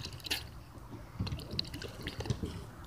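A pet bird bathes in water, with scattered splashes, drips and light wing flutters coming close and fairly soft, in irregular bursts with short pauses.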